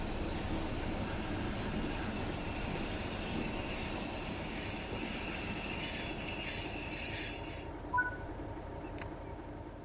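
A Class 31 diesel locomotive braking in Train Simulator 3, a steady rumbling roll of wheels on rail with a long high squeal that cuts off near the end, followed by a brief clunk.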